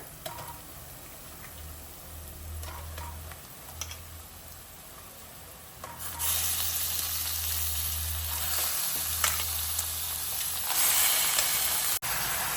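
Chicken pieces added to browned onions in hot oil for a home-style chicken curry set up a loud, steady sizzle and hiss that swells midway and keeps going, with stirring noises and no speech.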